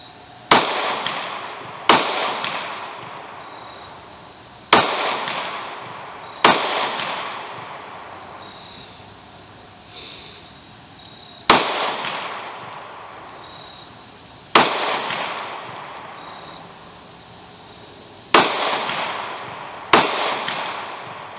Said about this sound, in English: Again, I'm shooting an 8-inch target. I'm at 7 yards.